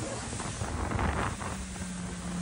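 A boat travels on the sea off Crete, Greece, with steady wind buffeting the microphone, rushing water and a low engine drone underneath, all fairly loud and continuous.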